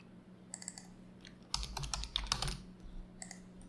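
Someone types on a computer keyboard while coding, with short bursts of clicking keystrokes, close and clear, broken by brief pauses and with no talking.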